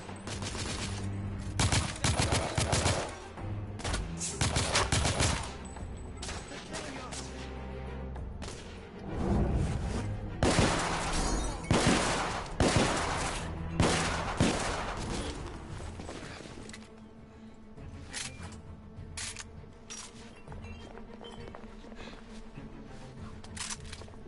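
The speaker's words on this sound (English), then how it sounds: "machine gun instead." Sustained automatic gunfire from the video game The Order 1886, dense rapid bursts with heavy booms rolling on and off for the whole stretch, loud and with no talk over it.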